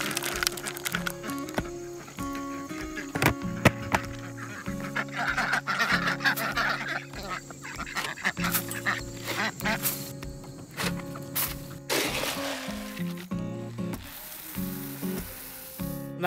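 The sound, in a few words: ducks quacking on a farm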